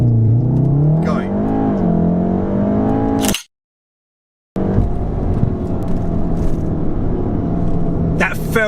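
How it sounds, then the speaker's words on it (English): A Volkswagen Golf R with a Stage 2 tune launches hard under launch control, its engine note climbing steadily through the revs. After a short break, a loud, sustained rumble of hard acceleration follows up close. "Race mode is on, foot on both pedals, and we're just going to let go of the brake and let it launch."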